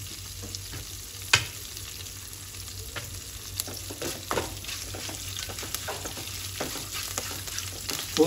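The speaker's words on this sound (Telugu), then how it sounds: "పోపు పర్ఫెక్ట్గా వస్తేనే టేస్ట్ ఉంటుందండి." Spices for a tempering sizzle steadily in hot oil in a pan while a spoon scrapes and stirs, giving soft clicks over a continuous frying hiss, close and moderately quiet.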